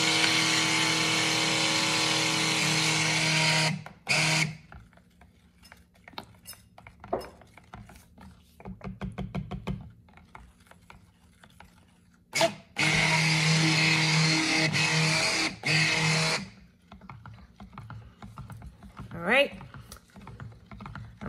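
A stick blender whirs through activated charcoal cold process soap batter in two steady bursts of several seconds each, separated by quieter tapping and light clinks of utensils.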